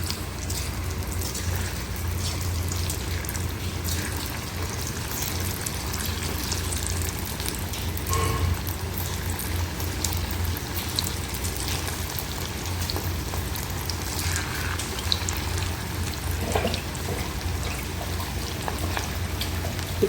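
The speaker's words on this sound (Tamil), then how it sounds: "இப்போ எண்ணெயில் பொரித்து எடுத்துடலாம்." Ivy gourd (kovakkai) pieces coated for chilli 65 frying in hot oil, a steady dense crackle and sizzle that holds evenly throughout with a few sharper pops, close and continuous with no talk.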